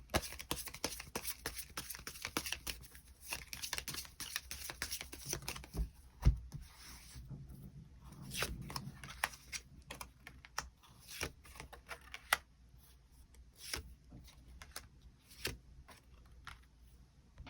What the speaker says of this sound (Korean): 어떻게 이 관계가 흘러가게 될지 추가 카드 뽑아보도록 하겠습니다